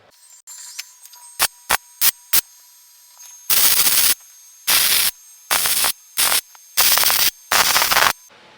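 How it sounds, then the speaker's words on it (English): Welding a bolt onto a homemade pan brake: a few short crackles, then five loud sustained bursts of harsh buzzing arc, each about half a second to a second long, separated by brief silences, close and with no talk. "So I'm going to weld this all out now"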